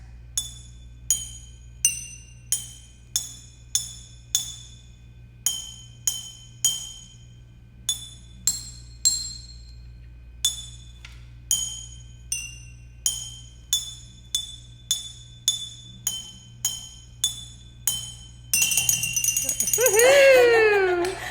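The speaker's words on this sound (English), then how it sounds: "so there you go, your very own soda bottle xylophone" A homemade soda bottle xylophone, glass bottles filled with water and struck with a spoon, rings out in a long run of clear, evenly paced bright tones before giggling and excited voices take over at the end.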